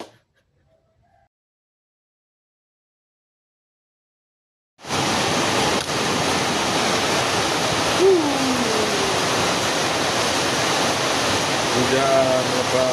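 Heavy rain starts after nearly five seconds of silence and then pours as a dense, steady hiss, loud and close, with a faint voice and a short tone briefly heard under it.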